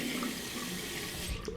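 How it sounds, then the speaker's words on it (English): Philips OneBlade shaver switched on and held under a running tap, giving a steady wash of splashing water that fills the whole moment with no break, fairly close and even in level. "I'll turn it on whilst rinsing it."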